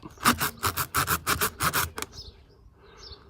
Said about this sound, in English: go in and out a few times, and it's like you're sanding the inside of the hole